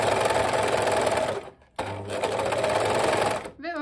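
A Singer overlock sewing machine runs close up with a fast, steady whirring stitch. It halts briefly partway through, then resumes at full speed.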